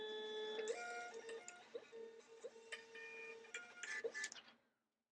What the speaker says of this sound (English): Get the label printing.